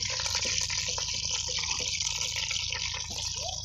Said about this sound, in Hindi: मैंने थोड़ा सा पानी डाला है।